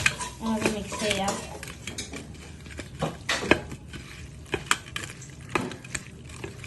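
Chili powder and turmeric stirred in a pan, with irregular metallic scrapes and clinks of a spoon against the cookware, close and moderately loud, and a voice briefly heard at the start.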